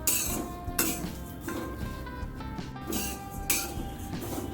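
Thin vermicelli (sewai) roasting on a low flame, stirred without pause, gives a steady clatter of a spoon scraping the pan, with a few sharper metallic clinks standing out.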